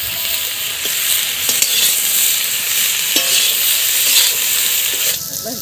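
Bay leaf and turmeric frying in hot oil among potato and kohlrabi pieces, giving a steady close sizzle with a few scattered clicks and stirring scrapes throughout, no talking.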